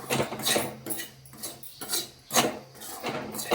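Sorghum flour roasts slowly on low heat in a pan while a spoon stirs and scrapes it, giving repeated rhythmic rasping strokes with short pauses between, close and fairly loud.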